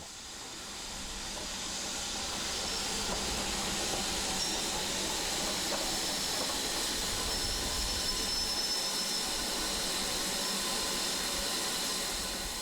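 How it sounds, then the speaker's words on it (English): A steady, broad hiss and rumble of a steam train leaving the station, building and holding for the whole stretch, with no voices over it. "As it leaves the station, the next train in is hauled by the Standard Class 4."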